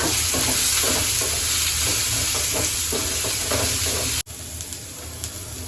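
Egg gravy is stirred in a sizzling frying pan. A constant loud hiss of frying runs throughout, with scraping strokes of the spoon repeating in an uneven rhythm and a brief sharp break near the end.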